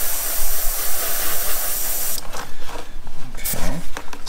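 An airbrush sprays paint onto a Nagash miniature in a steady, loud airy hiss that fades midway into softer, broken bursts of spraying.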